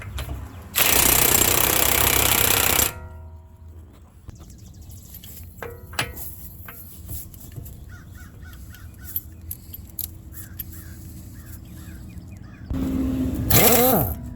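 An impact tool hammers loose the 32 mm CV axle nut on a 2017-2020 Nissan Rogue 2.5L, firing in two loud sustained bursts near the start and end, with crows cawing and workshop clatter in between.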